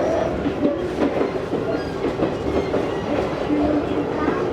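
An Izu-Hakone Railway 3000 series electric train runs between Mishima and Shuzenji, heard from inside as a continuous rumble with rhythmic wheel clatter and a brief faint squeal.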